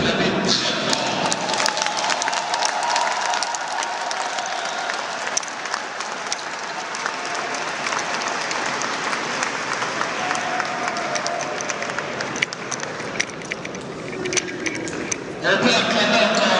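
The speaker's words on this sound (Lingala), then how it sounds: "Est-ce qu'on peut l'acclamer très fort?" A crowd at a stage performance during a memorial tribute for King Kester Emeneya claps and cheers loudly and steadily, a dense wash of applause lasting throughout.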